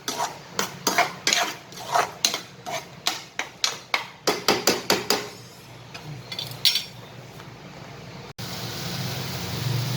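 Kalakand mixture being stirred in a pan, a spoon knocking against the metal in a quick series of sharp, evenly spaced clinks close up, then a quieter scraping stretch and a soft hiss.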